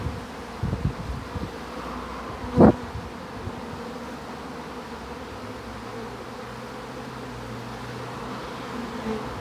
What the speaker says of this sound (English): there's so many other bees coming as well